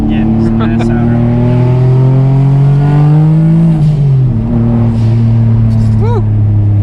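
Turbocharged Nissan 350Z of about 400 wheel horsepower accelerating hard on a canyon road, its engine revving up loud and close, then dropping briefly at a gear change and pulling again, with a passenger and driver talking over it.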